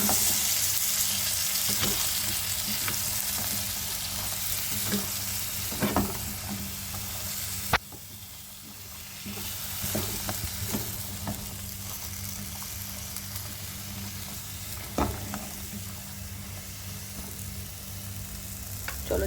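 Ridge gourd fries in a pan with a continuous loud sizzle, while a spatula scrapes and knocks at irregular intervals as it is stirred; a sudden click briefly interrupts midway, then the hiss resumes slightly softer.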